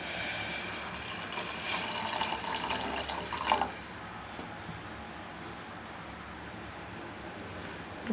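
Poha (flattened rice) simmering in water for aval payasam, with bubbling and watery splashing that is louder for the first few seconds, then settles into a quieter steady burble.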